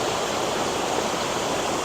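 Water at Lower Mill Gill waterfall rushes in a continuous, even broadband roar, steady and close, with no voices or other sounds.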